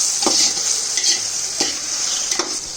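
Tomato masala fries in oil for chicken biryani while a spoon stirs it, a steady bright sizzle broken by four scraping, clinking strokes against the pot, close and without speech.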